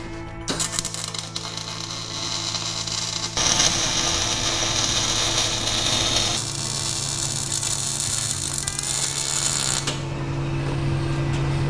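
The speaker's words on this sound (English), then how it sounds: "Hey, it's making welding noises." Welding on a Dodge Dakota truck's frame during cross member fabrication, a steady crackling electric buzz and hiss over a constant low mains hum, continuous and fairly loud with no talking.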